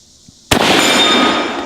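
One sharp, loud close gunshot from a Mauser K98 bolt-action rifle, an abrupt crack followed by a long, bright ringing echo that trails off slowly.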